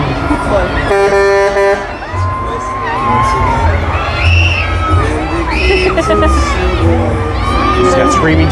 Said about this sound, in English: She's got screaming children.